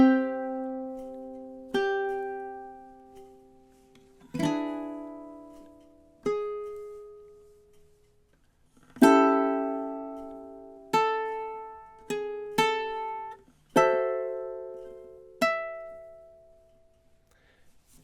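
A ukulele plays measures 9 to 12 of a tune, with sparse plucked and strummed chords, each attack ringing and decaying, in a syncopated rhythm with gaps of near silence between hits, close and clear.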